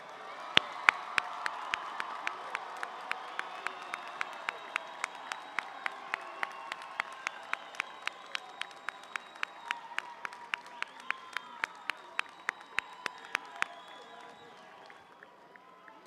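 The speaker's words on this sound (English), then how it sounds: "Graduates, I ask that you now please turn and applaud all of those who supported you" Commencement ceremony audience applauding their supporters, a broad, steady wash of many hands clapping with scattered sharp claps, sustained for about fourteen seconds before tapering off.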